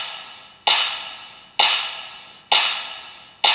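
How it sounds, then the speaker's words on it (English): Electronic clap samples, four crisp bright hits evenly spaced about a second apart, each with a long smooth reverb-like tail, heard alone and fairly loud. "Then we also have claps,"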